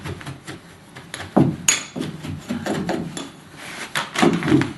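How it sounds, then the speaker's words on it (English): Carpet being bumped onto tack strip along a staircase with a Behr Claws carpet stretcher, heard as several dull, muffled thumps and knocks in an irregular rhythm, close by with no talking. "So I'm lightly bumping this carpet up to the tack stripping,"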